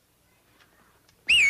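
A person gives one sharp, wavering attention-getting whistle that bursts in loudly near the end after a stretch of near silence.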